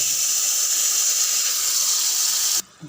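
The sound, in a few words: pouring tamarind water into a pan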